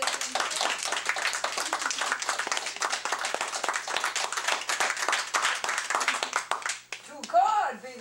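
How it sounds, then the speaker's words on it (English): Audience applause in a library talk, sustained crowded clapping for about seven seconds that stops abruptly, followed by someone speaking. "let's give a round of applause to"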